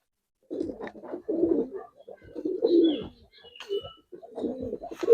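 Giribaz and coloring pigeons coo close by in repeated throaty bursts, some long and rolling, with short gaps between calls and a few higher chirps mixed in.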